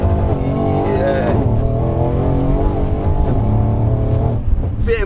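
A Mercedes C63 AMG's engine pulls hard under acceleration, a loud, steady rising drone heard from inside the car while driving, with someone talking over it.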